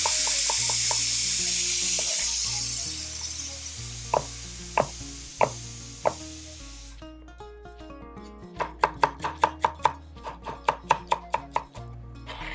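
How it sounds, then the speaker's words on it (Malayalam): Elephant foot yam being cut into small cubes on a board, with a steady run of sharp, close knife chops that quicken into a rapid series near the end, over a faint low hum and no talk. "നമ്മുടെ ചേന എടുത്തു, അതുപോലെ തന്നെ ക്യൂബായിട്ട് കട്ട് ചെയ്യാം."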